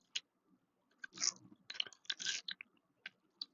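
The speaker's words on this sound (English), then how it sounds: "she's taking a bite" Close, crisp crunches of someone biting and chewing crunchy organic cranberry bread, a series of irregular sharp bites and munches in a quiet room.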